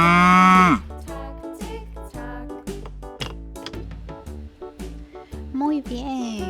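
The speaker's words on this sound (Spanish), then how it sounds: "Y nuestro último animalito de rompecabezas es una vaca." A cow lowing in a children's animal-sounds puzzle, one loud drawn-out moo at the start, then light music carrying on alone with no voice.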